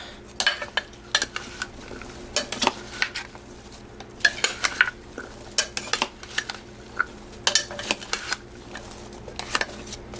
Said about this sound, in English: And now we are going to toss our vegetables.